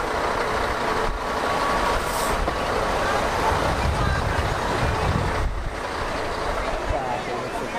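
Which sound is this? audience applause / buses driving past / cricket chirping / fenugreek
buses driving past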